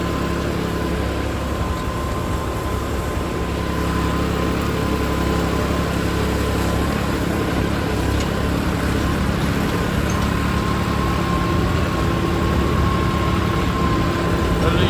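A tractor engine running steadily on a farm during puddling work for paddy, a continuous loud drone with a low rumble and no breaks.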